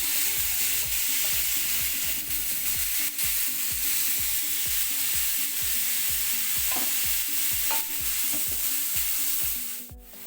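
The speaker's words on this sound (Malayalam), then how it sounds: "ഈ വെളിച്ചെണ്ണയിലേക്ക് നമ്മൾ അരിഞ്ഞ് വെച്ചിരിക്കുന്ന ബീട്രൂട്ട് നമുക്ക് ഇട്ട് കൊടുക്കാം" Chopped beetroot sizzles loudly in coconut oil while being stirred with a regular, rhythmic scrape against the pan, close and continuous, with no talking.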